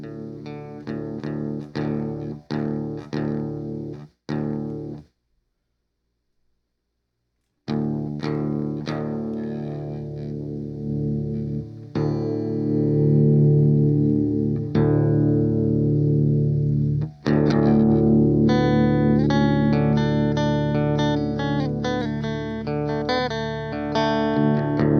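Electric guitar, Stratocaster-style, played through a Boss Blues Driver set as a clean boost with tone centered and gain down: strummed chords, a brief silent gap, then sustained chords and melodic single-note lines, bright and full.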